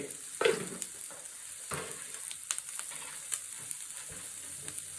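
Chicken stirred in a pan over low flame with pepper powder, chilli powder and salt: a soft, quiet sizzle with scattered scraping and stirring clicks.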